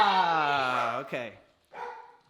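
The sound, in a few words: dog barking upstairs in its cage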